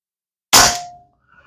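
A single sharp metallic air rifle shot, fired with low tank pressure, cracks out with a brief ringing tail, followed by a faint rattle, isolated in silence.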